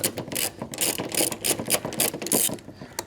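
A ratchet wrench clicks in quick, uneven bursts while old exhaust headers are removed from a car, the sharp metallic pawl clatter close and loud with short pauses between strokes.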